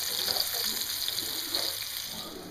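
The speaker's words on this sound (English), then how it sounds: "And the oil should sizzle, of course." Oil sizzles and crackles steadily in a hot pan while frying gluten patties, a continuous bright hiss with faint stirring, close by and without talk.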